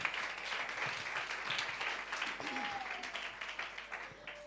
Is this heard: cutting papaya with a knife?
no